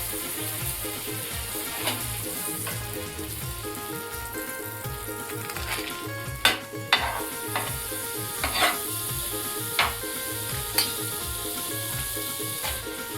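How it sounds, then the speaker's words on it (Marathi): Pav bread warms in butter in a hot pan with a steady close sizzle and occasional scraping taps of a utensil, with no talk. "आता आपल्याला हे पाव गरम करून घ्यायचे आहेत।"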